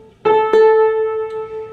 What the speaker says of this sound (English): If I play an A on the uke, it sounds the same